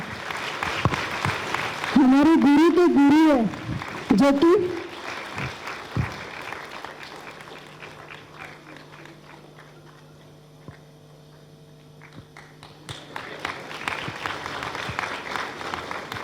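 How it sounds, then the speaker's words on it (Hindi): Audience applause at a memorial day gathering for a spiritual teacher at Vishav Shanti Sadan, Ludhiana: scattered clapping opens and returns near the end, with a voice speaking through it and a quiet hum between. "जब तक दीदी मंच पर पहुंचे तो तालियों का सहयोग जरूर दीजिएगा"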